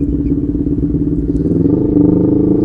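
A motorcycle rides along on a short trip in the Philippines, its steady engine drone loud and continuous throughout with a slight rise near the end, and no talking.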